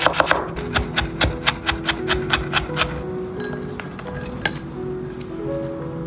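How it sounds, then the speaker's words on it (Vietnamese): A knife mincing dried shallots on a cutting board gives a quick run of about a dozen sharp, evenly spaced chops close to the microphone, then a pause broken by a few scattered taps. "Đầu tiên mình có 2 củ hành khô, mình băm nhỏ ra nhé."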